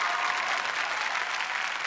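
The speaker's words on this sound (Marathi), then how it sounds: "जोरदार टाळ्या झाल्या पाहिजेत आशूसाठी म्हणजेच पुष्कराज चिरपुटकरसाठी" Steady audience applause on a Marathi comedy show stage, a dense wash of clapping that holds evenly for the whole stretch with no voices on top.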